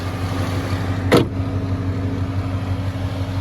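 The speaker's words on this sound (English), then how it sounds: "I'm going to put the hood down" A single firm thump near the middle as the hood of a 1996 Chevy Impala SS, held up by gas-powered shocks, is shut, over a steady low hum.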